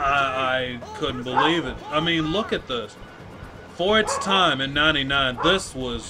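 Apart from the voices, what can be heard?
None of the usual background noises is heard.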